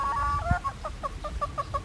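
Chickens clucking close by while pecking at grass, a quick rhythmic series of short clucks over faint outdoor background.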